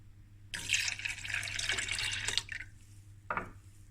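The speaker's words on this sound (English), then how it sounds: "we're going to fill this container 3 times with milk, full cream milk, and then add it in there." Full cream milk is poured from a container into another vessel for a milk tart, a close steady liquid gush lasting about two seconds, followed by a shorter second splash, over a low background hum.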